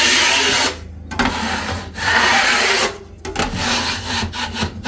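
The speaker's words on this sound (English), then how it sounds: "It's important you scrape back your work." A scraper drags back over dried cornice mud on drywall in loud, gritty, rasping passes of about a second each, broken by short gaps, close and alone.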